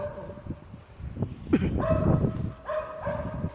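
A dog gives a few short barks and yips at close range, spaced irregularly, with some whimpering sounds between them.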